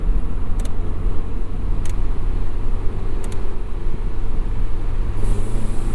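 An old, battered car with worn-out suspension drives along, its low engine and road rumble steady throughout, a few faint clunks and creaks showing as brief clicks above the drone.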